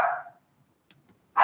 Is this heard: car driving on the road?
no